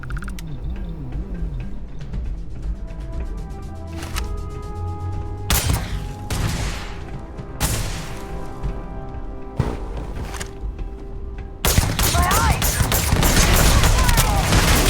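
Shotgun blasts and other gunfire in a video game, heavy booming shots spaced irregularly over game music and effects, growing louder and denser near the end.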